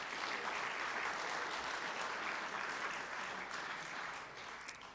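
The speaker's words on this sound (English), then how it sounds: "give yourselves a round of applause" A large audience at a full-house Rotary meeting claps steadily for several seconds, a dense, even wash of applause that tapers slightly near the end.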